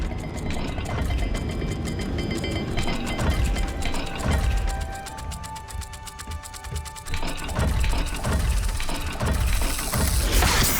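A puzzle dial mechanism in Hogwarts Legacy turns with steady ratcheting clicks and grinding gears, a continuous mechanical clatter over a low game ambience.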